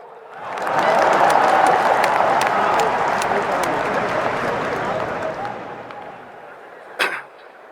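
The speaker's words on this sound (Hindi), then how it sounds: "ठोको ताली" A crowd applauds at a politician's speech. Dense clapping swells quickly, holds loud for several seconds, then thins out, and a single sharp thump follows near the end.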